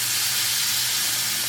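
About three tablespoons of butter sizzling in a hot cast iron skillet, a bright, steady close-up hiss that holds evenly throughout with no talking.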